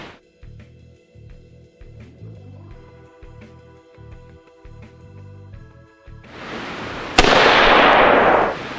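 An AR-15 rifle fitted with a Seekins Precision compensator fires a single loud, sharp shot at an outdoor range, preceded by a low humming tone and followed by a long broad wash of blast noise.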